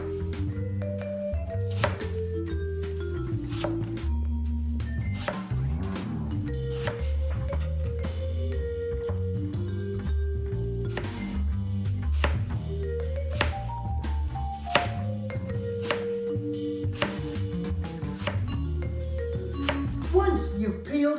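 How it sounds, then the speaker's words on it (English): A knife chopping a peeled, cored apple into bite-sized pieces on a cutting board for an apple cake: steady, repeated close thunks and taps run the whole time over soft background music, with no talking. "cut it into small, bite-sized pieces, like I'm going to show you right now"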